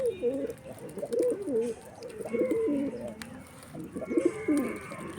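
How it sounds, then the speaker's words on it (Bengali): A pigeon coos repeatedly in soft, rolling bursts during hand-feeding, the low throaty calls fairly close and clear over a faint background hiss. "এই পায়রাটা দেখুন।"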